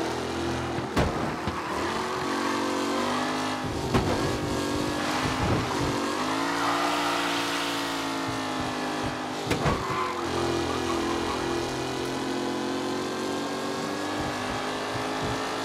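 Race cars in Mafia Definitive Edition roar past on a track, engines revving and shifting with rising and falling whines and several loud close pass-bys over a continuous motor drone, an announcer's voice faint underneath.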